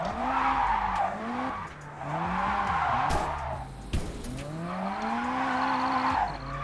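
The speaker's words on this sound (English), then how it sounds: "This is the way we drift." A car drifts in the Test Drive JDM video game, its tires squealing in long, wavering skids over a steady engine drone, with several drawn-out slides across the run.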